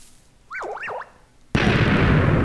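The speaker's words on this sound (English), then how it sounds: "And a massive explosion." A massive TNT explosion in a space video game erupts as a sudden loud broadband blast, preceded by a wavering electronic warbling tone.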